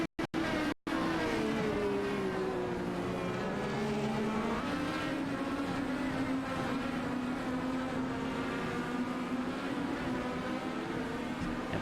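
Race cars at the Detroit GP racetrack drone continuously in a steady engine roar, pitch drifting as several cars run together at a distance, after a couple of brief dropouts at the start.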